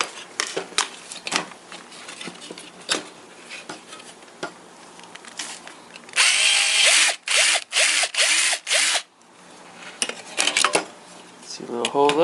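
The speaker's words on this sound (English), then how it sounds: "Now I'm going to go ahead and drill a hole into this." A power drill bores a hole into the dashboard of a Ford F150 pickup during a double-DIN stereo install, running in several loud, close bursts of roughly a second each with short pauses between them.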